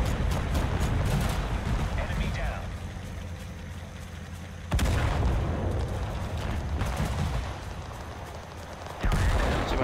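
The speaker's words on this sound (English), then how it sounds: "Oh my god, you guys are firing." Gunfire in the video game Total Conflict Resistance, loud rapid bursts of shots with heavy low booms that come in waves through the clip, with players talking over the shooting.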